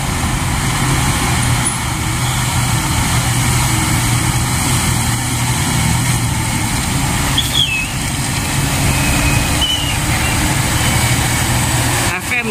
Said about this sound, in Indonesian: Kita lihat ada Hino 500 terbaru nih